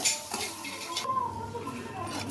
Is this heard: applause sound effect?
no